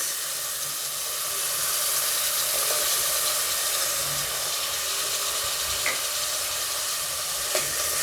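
Green peas, beans and mixed vegetables sautéing in a pan for vegetable pulao, giving a steady, fairly soft sizzle and hiss with a few faint stirring clicks, close by and without speech.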